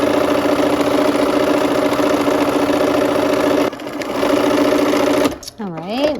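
A sewing machine stitches a quarter-inch quilt seam with a quarter-inch foot, whirring steadily and loudly at a constant pace, briefly dipping, then stopping near the end as a voice breaks in.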